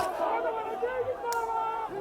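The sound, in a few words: crowd chanting slogans at protest site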